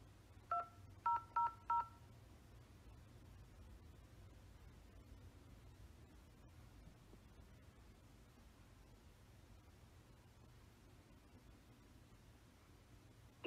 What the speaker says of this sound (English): Please press the number on your phone.